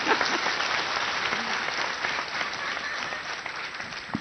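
A poetry event audience breaks into steady, enthusiastic applause, a dense wash of many clapping hands that holds at an even level for several seconds with no talk over it.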